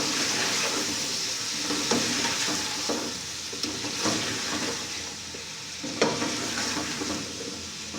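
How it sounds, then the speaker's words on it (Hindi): Turnips and meat stir-frying in a pan make a steady hiss of sizzling oil, broken by repeated scrapes and knocks of a spoon as the pieces are turned. Close and fairly loud, with no talk. "अब मैं इसमें शलजम ऐड करूंगी। इनको अच्छी तरह मिक्स करेंगे।"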